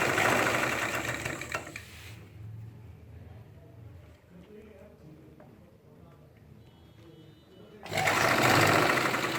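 A sewing machine stitches a side zip onto ladies' pants, running loud and close in two bursts at the start and end, with a quieter pause between where faint sounds continue.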